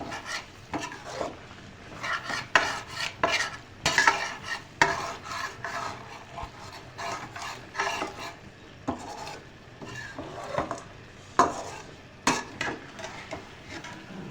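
Liver and tomato masala stir-fried in a pan: repeated scraping strokes of a spoon against metal with a low, steady sizzle underneath, close and moderately loud, no talking.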